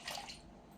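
A cup of milk is poured over a beaten egg in a bowl, making a brief, soft, close splashing pour that fades within a second, with no voices.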